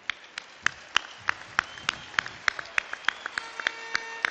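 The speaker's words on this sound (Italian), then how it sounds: "facciamo un applauso a, a questa gente" Crowd applause at an evening presentation of the Novara football club at the Broletto, with sharp claps ringing out over a steady wash of clapping for the whole stretch, moderately loud and fairly near.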